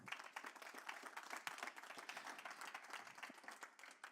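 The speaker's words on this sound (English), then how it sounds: "give them a warm applause" An audience applauding steadily, a dense patter of many hands clapping at once, sustained throughout and heard from a distance.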